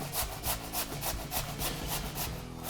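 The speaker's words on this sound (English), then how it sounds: "So first you start with grating your potato." Raw potatoes being grated on a hand grater for Russian draniki, a steady run of rhythmic rasping strokes, about four per second, close and loud with no talk.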